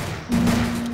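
A brief, loud burst of rapid video game gunfire over a low electronic hum.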